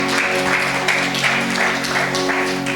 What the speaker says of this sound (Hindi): ताली बजाएं हम परमेश्वर के में